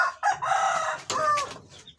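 A broody Kabakard hen in a breeding pen gives close, loud clucking and a harsh drawn-out call, a couple of short vocal bursts.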